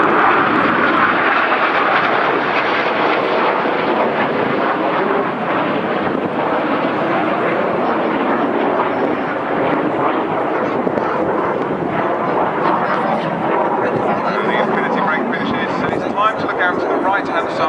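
Red Arrows jets roar past at the Koksijde airshow in Belgium, with a loud continuous engine rush and wind buffeting the microphone, under an announcer's commentary.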